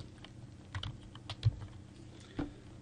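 Quiet, irregular clicks of a computer keyboard as a username is entered, a few soft keystrokes with short pauses between them, no talking.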